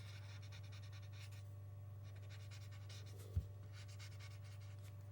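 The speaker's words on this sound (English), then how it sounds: "I'm using a relatively fine pencil tip on this mechanical pencil so that I can keep my lines" A mechanical pencil scratches graphite across paper in repeated short strokes of drawing and shading, quiet and close against a steady low hum, with one brief soft knock partway through.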